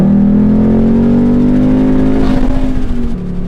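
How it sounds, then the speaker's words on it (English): A Ford Mustang S550 with stock exhaust idles and revs up nearby, a loud steady engine drone whose pitch climbs smoothly before settling into a rougher burble. "But this is a stock exhaust."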